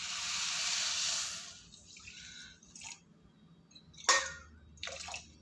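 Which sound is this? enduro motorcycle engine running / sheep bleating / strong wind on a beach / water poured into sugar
water poured into sugar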